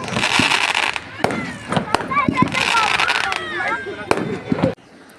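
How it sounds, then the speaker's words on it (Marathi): Firecrackers burst at an army Diwali fair. Sharp bangs and crackling pops come in quick, irregular succession, with whistling streaks among them, while people talk nearby. "चला फटाके तर फुटले"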